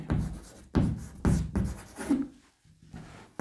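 Pen writing on paper during a maths lesson, several firm scratchy strokes in bursts with short pauses, close and fairly loud.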